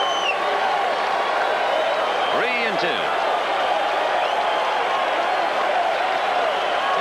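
Stadium crowd at the 1986 World Series Game 2, Red Sox at Mets, a steady broad roar of fans rising around a pitch, with a commentator talking over it throughout.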